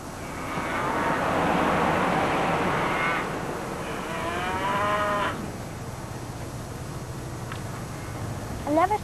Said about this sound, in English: I've never seen so many cows.